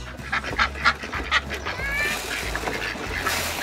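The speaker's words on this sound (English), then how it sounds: "These are our uh, Pekin ducks, by the way" Pekin meat ducks and escaped geese on a family homestead, giving several short nasal quacks and honks in quick bursts, close by, over low rumbling background noise.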